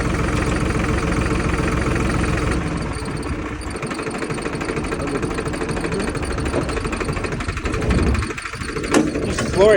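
A tractor engine runs steadily near the microphone with a rough, knocking idle, its pitch and load shifting partway through, and bursts of louder noise toward the end.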